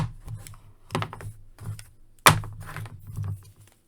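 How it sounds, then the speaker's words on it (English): A Marvel Avengers Mech Strike Iron Man action figure's arm joint being moved, giving a few quick plastic clicks spread over several seconds, with one sharper, louder click near the middle, close and fairly quiet. "Nice clicky noise when you move the arm."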